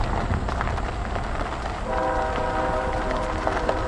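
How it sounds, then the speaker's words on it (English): A train rumbles past steadily nearby, with a sustained horn tone entering midway over continuous rolling noise; no talking. "And we still have a train."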